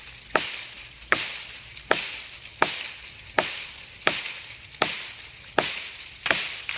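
A Bark River JX5 Vengeful knife chopping into a dead tree outdoors, nine sharp regular impacts about once every 0.75 seconds, close and loud, each strike ringing briefly before the next.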